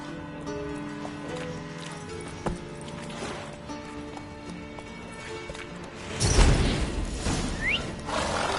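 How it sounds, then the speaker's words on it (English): Horses in the video game The Witcher 3: Wild Hunt snort and shuffle amid a soft musical backdrop, followed by a louder burst of hoof clatter and movement near the end. "Gotta calm the horses before they wake the guards."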